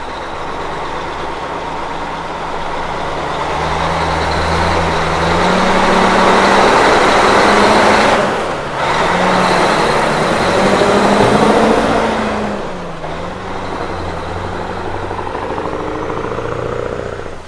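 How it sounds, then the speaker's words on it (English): A Mack truck pulls out of a yard in first gear and heads down the street, its heavy diesel engine chugging loud and close, swelling as it gains speed, with a brief dip midway. "Mackenzie put the Mack into first gear, carefully turning out of the yard and heading down the street in a gloriously loud and smoky fashion"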